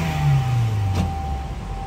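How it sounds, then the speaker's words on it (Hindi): A Toyota Camry engine, just repaired after an ECM fault, revs up steadily while idling in place, with a low rising engine tone and a faint whine over it. No one speaks. "ये देखें गाड़ी बिल्कुल सही रेस ले रही है।"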